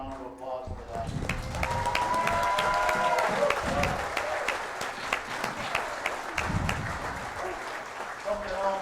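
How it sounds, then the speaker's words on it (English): A banquet audience at a drag racing dragway gathering breaks into a sustained round of applause, a dense, fairly loud wash of clapping with some cheering holding steady for several seconds before tapering near the end. "So join me in a round of applause for that"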